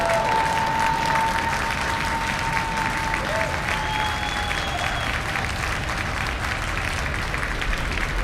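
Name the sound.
SpaceX rocket liftoff, OneWeb 15 launch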